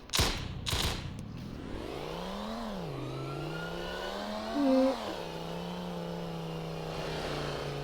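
A car in Roblox accelerates and drives, its engine note climbing and dipping through gear-like sweeps after a couple of sharp thuds at the start, steady and moderately loud with no talk.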